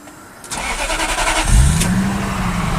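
A Lexus SC 430 car engine cranks briefly and catches, then settles into a steady rumbling idle, close by.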